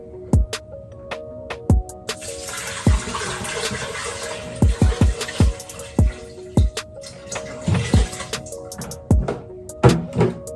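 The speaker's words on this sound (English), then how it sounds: "and then cover with water." Water pours into an Instant Pot over beef marrow bones with a tablespoon of salt, a continuous splashing rush with scattered sharp drips and clinks, fairly close and steady for most of the clip.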